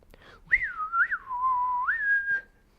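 A lone person whistles a slow, wavering melody with long sustained notes, clear and close against near silence, at the ending of the film High Noon.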